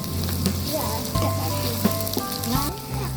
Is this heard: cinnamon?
yes